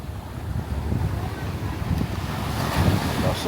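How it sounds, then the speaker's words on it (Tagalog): Strong ocean waves at Playa Feliz beach in Cabangan, Zambales, a loud continuous wash of surf mixed with gusty wind noise on the microphone, with no talking. "Ay, ang lakas ng alon."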